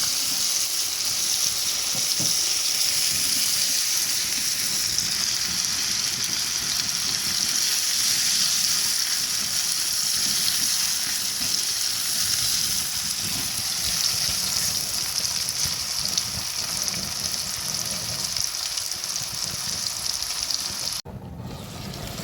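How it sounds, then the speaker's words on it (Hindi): Onions and tomatoes fry steadily in a pan for shaanjam-palak rice, a continuous close sizzle and hiss with faint stirring scrapes and no voice, ending in a brief clatter near the end. "ये देखिए हमारे प्याज टमाटर भुन गए।"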